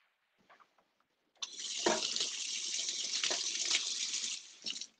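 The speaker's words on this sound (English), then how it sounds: "Let me rinse this knife off." Tap water runs into a sink as a knife is rinsed, starting with a few faint clicks and then a steady close splashing stream that stops abruptly near the end.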